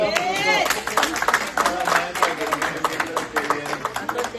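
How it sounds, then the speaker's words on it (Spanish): A church congregation at a Wednesday Bible study claps in applause, with scattered hand claps mixed under a voice that keeps talking over them. "¡Aleluya! Un aplauso."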